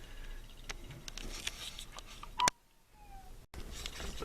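A cat making strange, eerie vocal noises, a faint warbling yowl among soft patter and rustling at close range, broken by a sharp click and brief dropouts.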